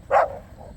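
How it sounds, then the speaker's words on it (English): A dog gives one quick, loud bark at baby goats on a farm in the Philippines, close to the listener, then trails off into quiet. "the dogs are messing with the goats."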